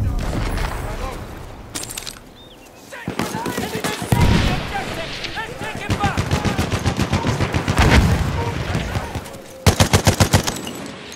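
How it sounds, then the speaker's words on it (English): Rapid bursts of machine gun fire in Battlefield 1 during Domination on the Rupture map, with a dense rattling salvo near the end, sustained gunfire throughout and a voice speaking beneath it. "There's a machine gun."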